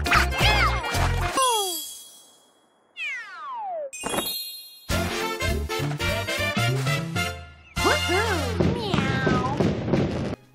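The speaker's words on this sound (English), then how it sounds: "In Super Mario 3D World, Meowzalina has cat voices." Meowzalina, the cat form of Rosalina in the Nintendo game Super Mario 3D World, gives a series of bright, close, voiced meows and cries in separate bursts, set among game chimes and short gaps of silence.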